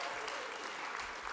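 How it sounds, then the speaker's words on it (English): An audience at a PechaKucha night in Calgary gives a round of applause for the Grand theater. The clapping is dense and continuous and rather faint, with no pauses. "round of applause for the Grand"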